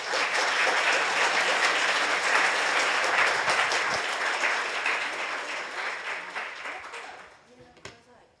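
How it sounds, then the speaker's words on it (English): Audience applause rings out in a hall after a series of Python conference lightning talks, steady and dense for several seconds before thinning and fading out near the end. "Please give warm hand clapping to all 10 speakers"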